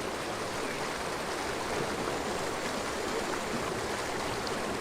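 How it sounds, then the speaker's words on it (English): Rushing water of a waterfall in the game Archeage as a rowboat goes over it, a loud, unbroken broadband roar and splash holding steady throughout with no voices. "Let's go off the waterfall just for the heck of it."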